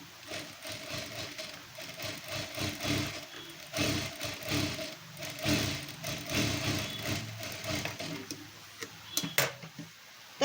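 A domestic sewing machine runs topstitching right along the edge of cross-cut fabric strip binding, a steady close mechanical whir with a fast ticking rhythm that rises and falls over about ten seconds, heard alone.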